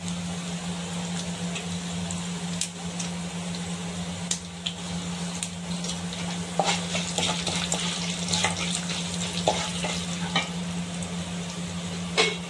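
Broken dried red chillies frying in oil for Telugu-style brinjal pickle: a steady, close sizzle runs throughout, with occasional stirring scrapes and clinks over a constant low hum.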